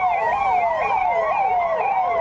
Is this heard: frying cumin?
no